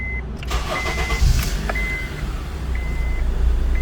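A 2017 to 2022 Honda CR-V engine cranks and catches, the idle rumble swelling steadily, while intermittent electronic chimes or beeps sound over it at close range.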